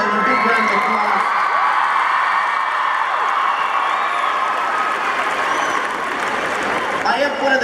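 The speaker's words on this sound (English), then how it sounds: "Can we please give them a big shout out and a big round of applause?" A large audience at a speech applauds and cheers for the moms in the crowd, with dense continuous clapping and scattered whoops sustained throughout and a few voices rising over it.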